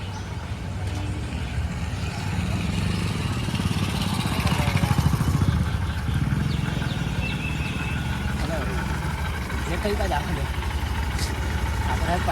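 A new Honda Shine motorcycle idles nearby with a low, steady engine putter and a short rise in revs partway through, mostly beneath people talking.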